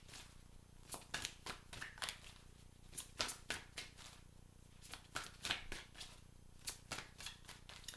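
Tarot cards being laid out on a table, a series of crisp slaps and flicks in irregular clusters, close but soft, with no talk.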